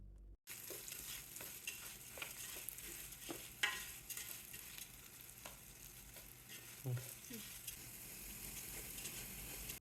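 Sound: rice roasting with salt in a pan until crackling, Thalassery biryani

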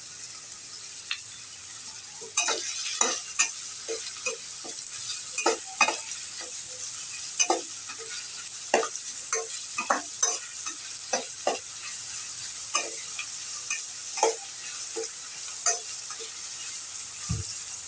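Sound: chopped onions frying in a pan for drumstick leaf bhaji

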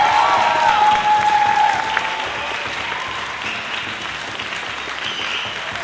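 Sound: audience applause for seniors at a school spring concert

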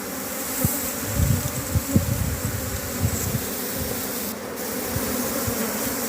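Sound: honeybee swarm clustered at front of hive

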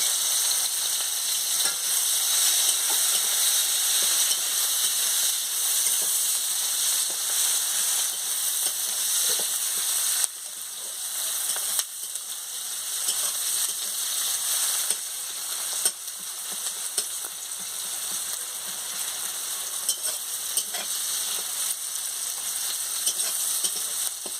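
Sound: chopped onion, green chilli and tomato frying in pan

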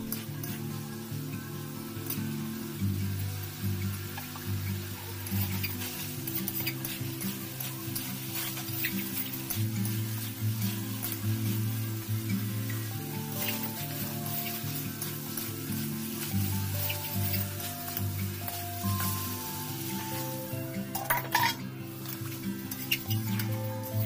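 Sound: pointed gourd frying and being stirred with spices in a pan

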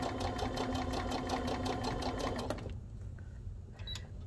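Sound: modern zig-zag sewing machine sewing with a stitch guide

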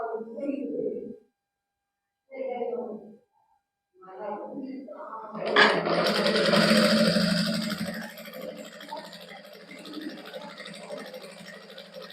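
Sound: sewing machine stitching a straight salwar

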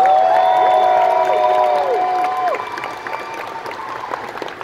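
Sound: audience applause and cheering for sponsors

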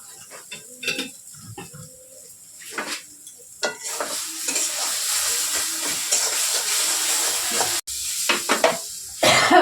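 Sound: stirring and frying taro leaves (kochu shak) in a pan

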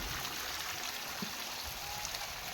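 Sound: rain falling

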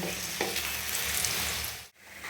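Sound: pea cutlet shallow frying in a pan

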